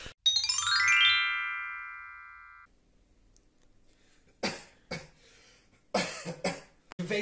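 A bright chime rings out and fades, then after a pause several harsh coughs follow in short bursts, close and fairly loud.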